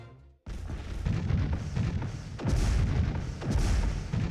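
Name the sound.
phaser arrays firing in video game Master of Orion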